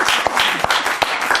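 Audience at a live comedy show clapping, a short burst of uneven claps with a few sharp distinct hits and a faint voice among them.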